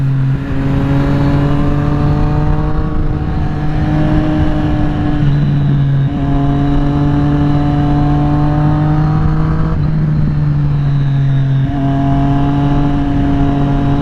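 A 2020 Triumph Street Triple RS motorcycle is ridden along a road, its engine droning loud and steady up close while the pitch rises and falls through several gear changes, with no speech.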